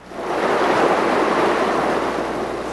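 Creek water rushes steadily past at a river fish-release spot, a continuous broadband wash that swells in the first half-second and then holds loud and even, with no voices.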